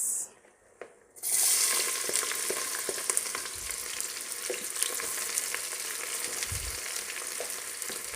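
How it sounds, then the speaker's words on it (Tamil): Onions sizzle and fry in a pan for Malabar chicken biryani, a steady hissing crackle. Occasional stirring scrapes are heard close up. "பிரியாணிக்கு ஆனியன்ஸ் நல்லா ஃப்ரை ஆகணும்"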